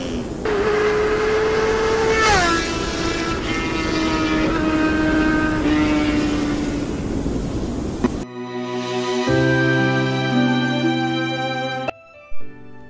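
A motorcycle speeds along with a rising, droning engine whine that shifts pitch as it accelerates, loud and close, then gives way to a different harsh, tonal hum near the end.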